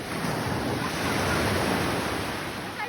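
Ocean waves breaking on Casapsapan Beach in Casiguran, Aurora, a steady loud wash of surf with wind buffeting the microphone, continuous and close for the whole stretch.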